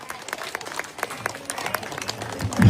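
An audience gives scattered, uneven claps, a handful of sharp hand strikes at irregular intervals that thicken slightly toward the end before a low thump.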